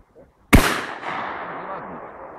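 A single loud shotgun blast at a trap shooting range, a sharp close crack followed by a long fading echo across the open range, with only faint background sound before it.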